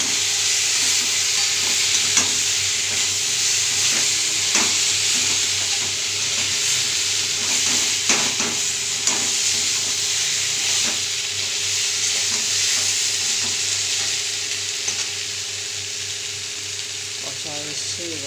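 Soybean curry being stirred and sautéed in a pan, a steady close sizzle with scattered scraping clicks of a spoon against the pan, continuous throughout with no talk.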